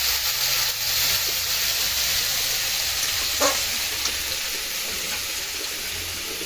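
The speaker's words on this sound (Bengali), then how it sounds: "এটা আলু ভাজা।" Potatoes frying in a home kitchen pan give a continuous close hiss and sizzle with one small clink partway through, no voices over it.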